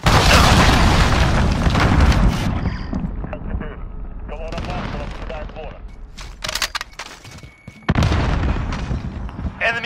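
A cruise missile detonates in the Call of Duty Modern Warfare Grazna Raid Domination match: heavy booms and loud rumbling blasts open the scene, with scattered gunfire in between and another strong explosion near the end.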